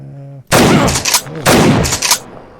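Shotgun blasts in the GameGuru Max video game, two loud booming shots about a second apart, each with a long decaying tail and close, dense sound, no talking.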